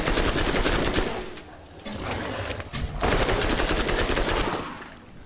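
Rapid SMG fire in the video game Borderlands, loud and close, rattling in sustained automatic bursts with a short lull partway through before the shooting resumes.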